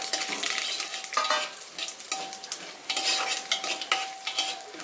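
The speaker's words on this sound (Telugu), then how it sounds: "పచ్చిశనగపప్పు వేసుకోవాలి. ఇది కూడా కొంచెం వేగనిచ్చిన తర్వాత" Raw chana dal frying in hot oil with garlic for a bottle gourd and tomato curry, giving a steady close sizzle broken by irregular scraping stir strokes, with no talking.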